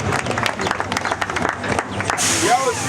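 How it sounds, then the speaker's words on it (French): Applause from an audience at the opening ceremony of a foundation, scattered claps under a speaker's voice, ending in a brief burst of noise. "on peut applaudir pour lui."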